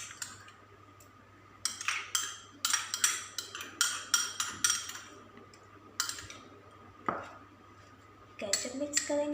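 A utensil clinks and scrapes against a bowl in repeated bursts as mayonnaise is mixed into a yogurt salad, with brief pauses between strokes over a low steady hum.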